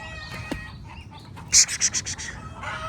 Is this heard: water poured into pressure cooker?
no